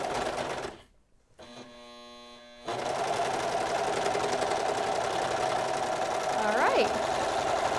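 Brother 1034D serger running after being rethreaded, a steady close mechanical whirr and knock that starts after a short pause and continues evenly, with a person speaking briefly before it.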